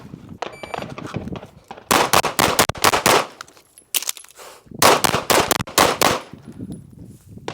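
Rapid bursts of gunshots from a SIG P320 pistol fitted with a PMM Flushcomp, several loud close strings of fire separated by short pauses, outdoors on a range.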